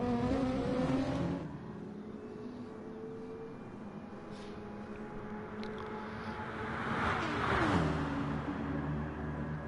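Porsche race car engine howling through a race, a steady loud drone with rising and falling pitch as the car accelerates, surging louder near the end as it passes close.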